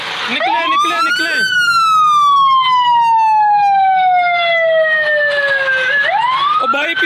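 Ambulance siren wailing through Lahore traffic, loud and close, sweeping up, then sliding slowly down over several seconds before rising again, with street noise faint underneath.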